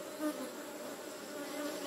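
Honey bees buzz in a steady, dense drone on a Costa Rican farm, the pollinating swarm humming continuously at moderate volume with no voices present.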